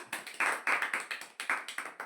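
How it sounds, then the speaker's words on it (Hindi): A small mathematics class clapping in time, roughly a dozen sharp, distinct claps in an uneven rhythm, fairly faint, with no talk. "मारो ताली।"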